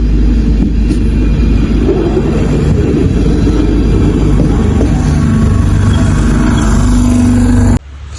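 A red electric commuter train in Slovakia rumbles loudly and steadily up close, a heavy low-pitched roar that holds for most of the stretch before cutting off abruptly near the end.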